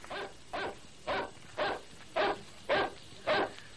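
A hound cries out on the moor near the Grimpen mire as an audio drama effect, giving seven evenly spaced barks or yelps about half a second apart, fairly loud and alone without voices.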